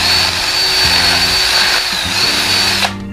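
A power drill reams out a hole in a homemade sand spike, a loud close whirring grind with slight load changes, then cuts off abruptly near the end.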